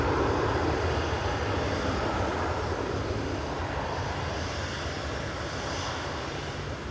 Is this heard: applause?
no